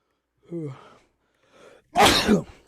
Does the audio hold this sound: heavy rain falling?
no